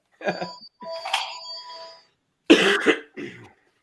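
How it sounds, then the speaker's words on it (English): Several harsh coughs come in short bursts with brief pauses between, close and fairly loud, alongside a faint tonal chime. "Sorry for the coughing"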